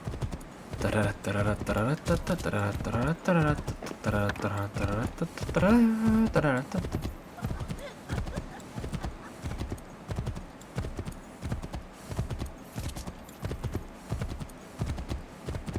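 Horse hooves clip-clop in a steady trotting rhythm in the Assassin's Creed III video game, clear and continuous throughout, with someone talking over the first part.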